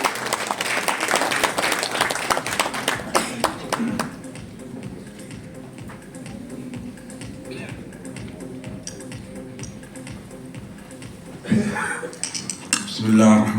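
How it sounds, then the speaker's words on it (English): An audience at the launch of South Asia's first women's handball league breaks into a burst of clapping that fades into scattered claps and murmurs, with a speaker's voice over a microphone, and a second swell of applause near the end. "A big round of applause, everybody."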